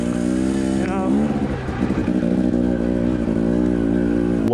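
KTM TE 250i two-stroke dirt bike engine running on a tight singletrack trail, a steady loud buzzing drone with a brief rise in revs near the start, continuous throughout.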